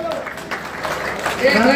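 A crowd at a rally applauding loudly, a dense continuous roar of claps that swells toward the end, with voices mixed in underneath.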